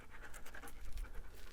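A dog panting close by in short, quick breaths, with faint scratching, heard outdoors on rocky trail ground near a remote-control buggy.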